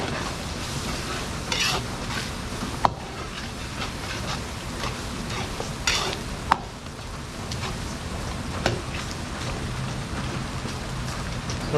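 Laing, taro leaves cooked in a boiling pot with shrimp cubes, is stirred continuously, giving a dense bubbling, scraping churn with a few sharp knocks of the utensil against the pot.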